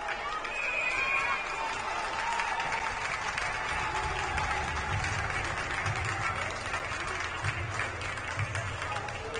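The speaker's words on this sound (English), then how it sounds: "Knowledgeable Skipper fans clapping for that." Fans in a hockey arena at a boys' high school section final between Eden Prairie and Minnetonka clap in a broad, sustained wash of crowd applause and noise, with an announcer talking over it.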